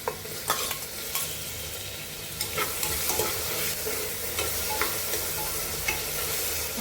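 Chopped tomatoes crackle and sizzle in hot oil tempering for a Malvani chicken rassa, with a steady frying hiss broken by repeated scraping strokes of a spoon stirring the pan, close and fairly loud.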